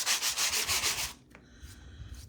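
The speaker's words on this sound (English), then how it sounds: "So I'm going to use a sanding block just to kind of help it smooth it out" A sanding block rubs back and forth in several quick, raspy strokes up close, then stops, leaving quiet handling noise.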